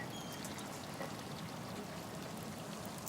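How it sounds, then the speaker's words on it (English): Water gushes from a burst pipe in a steady, faint, continuous rush with no breaks and no voices over it. "Sounds like water. Like a burst pipe or something."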